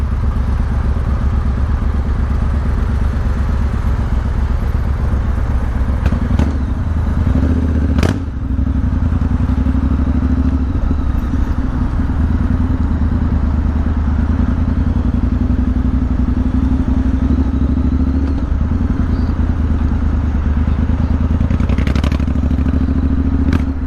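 A motorbike riding along an English countryside road, its engine a steady droning rumble throughout with wind noise and occasional clatters and thumps, close and continuous.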